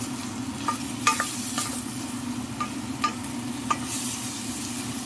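Spoon stirring a macaroni dish in a pan with chicken as it cooks, soft steady sizzling broken by a few sharp scrapes and clinks against the pan.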